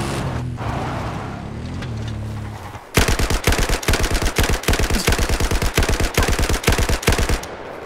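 Rapid automatic gunfire from a Battlefield 4 weapon, loud, close bursts of evenly spaced shots after a few seconds of rumbling ambient game noise.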